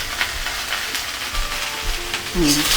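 Okra (bendakaya) frying and sizzling in a pan, a steady broadband hiss with scattered crackles and stirring scrapes, close and fairly loud, with a brief tonal squeak near the end.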